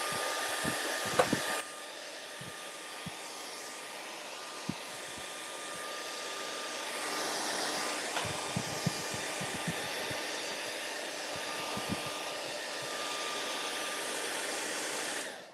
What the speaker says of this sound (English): Let's blow dry everything just for good measure.